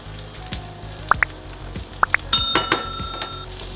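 Garlic butter sizzles softly in a frying pan on medium-high heat, a low continuous hiss with a few sharp clicks and clinks of a utensil against the pan, close up and without speech.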